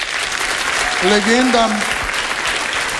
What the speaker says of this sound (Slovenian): dajte še en aplavz